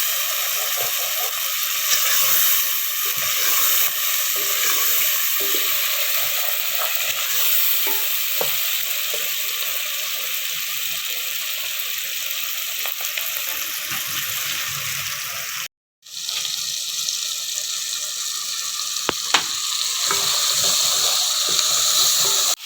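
Garlic, tomatoes and spices fry in a pan with a loud continuous sizzle, stirred steadily, close up, with a brief gap partway through.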